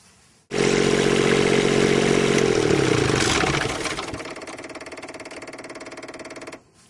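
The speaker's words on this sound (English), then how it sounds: "you want to turn the generator on and then let it run for a minute or two" A motor-driven RV generator starts abruptly and runs loud and steady just after its oil fill, with mechanical clatter settling into a slightly quieter hum before cutting off near the end.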